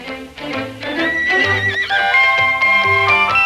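A loud horse whinny, rising and then falling in a long quivering neigh, heard close up with no talking.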